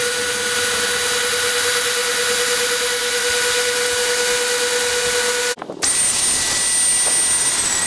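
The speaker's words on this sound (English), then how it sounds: "And drill a hole." Power drill boring a pilot hole for mounting a camper air conditioner, a loud, steady high-pitched whine held for over five seconds, then a brief stop and restart at a changed pitch, close up.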